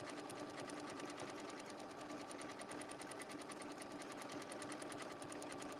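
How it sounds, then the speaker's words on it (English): Sewing machine stitching binding onto an appliqué disc using a circle sewing tool, a fast, even mechanical whirr with a rapid steady needle rhythm, quiet and continuous with no voices. "I'm even going to put on my binding with the circle sewing tool."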